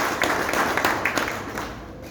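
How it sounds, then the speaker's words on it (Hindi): An audience at a business seminar gives a short round of hand clapping, a fairly faint burst of rapid claps that fades out within a couple of seconds. "ताली बजा लो भाई साहब।"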